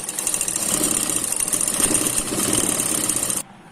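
A sewing machine stitching blouse fabric, a cup-style one-piece blouse panel, runs in a fast steady mechanical whirr with rhythmic needle clatter for about three seconds, then stops abruptly.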